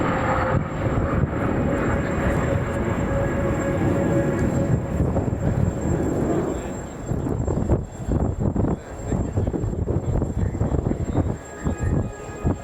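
A Sokol aerobatic team aircraft flies inverted at the Royal International Air Tattoo 2025 air show, its engine a steady broad roar that holds for several seconds before thinning and turning uneven.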